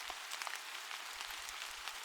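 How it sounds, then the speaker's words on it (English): Soft, quiet rain patters steadily on a surface, a faint even hiss with scattered drops and no voices. "told quietly, under the sound of rain"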